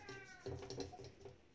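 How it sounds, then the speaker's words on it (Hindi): A cat meows a few times up close in a kitchen, short rising cries with light knocks of cookware and a faint background hum. "ये मेरी बिल्ली है"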